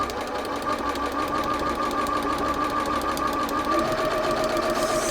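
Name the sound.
sewing machine stitching a straight line on quilt block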